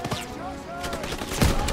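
Gunfire from a World War II-era weapon in Call of Duty WWII, a few scattered shots with a heavier burst near the end, heard under game ambience and a speaking voice.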